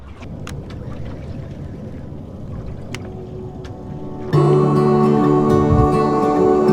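A boat motor drones steadily over rushing water in the San Juan Islands, Washington, then the engine note jumps louder and higher partway through as it speeds up, with wind noise throughout.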